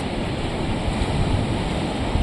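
Sea waves wash on the shore on a Christmas seaside walk, a continuous loud broadband rush of surf mixed with wind buffeting the microphone, steady throughout with no talking.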